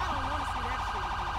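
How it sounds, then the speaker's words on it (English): A police siren wails in the GTA 5 LSPDFR video game, a continuous fast warbling tone that rises and falls steadily, loud and close throughout. "I'm gonna turn off my siren real quick so I can actually think"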